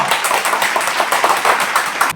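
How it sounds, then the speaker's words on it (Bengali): Steady, dense applause from a quiz-show audience, many hands clapping together for about two seconds before it cuts off abruptly. "জোরদার তালিয়া।"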